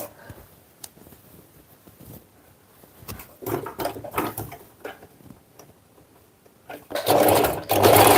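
Sewing machine stitching darts on a garment, starting with scattered handling clicks, then short motor runs that build into a loud, steady close whirr near the end, with no talking.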